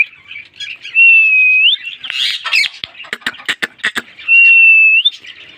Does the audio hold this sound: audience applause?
no